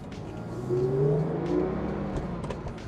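Steady, smooth engine drone from a Mercedes 280SL straight-six with a manual four-speed, heard from inside while driving on the road, a gentle swell in revs midway and no voices.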